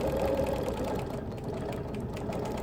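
A sewing machine runs steadily while doing background machine quilting on a Baltimore album quilt, giving a continuous close mechanical whir with no voices.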